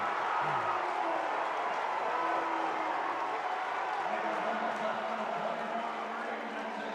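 A basketball crowd cheers during a district championship comeback, a steady roar of noise with voices rising and falling, heard under a commentator's talk throughout.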